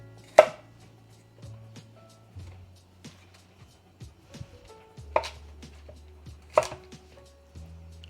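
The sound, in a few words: cutting lotus root into pieces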